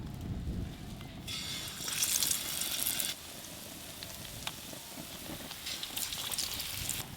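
Battered brinjal slices fry in hot oil with a steady crackling sizzle that swells when pieces are added. The frying is close and fairly quiet.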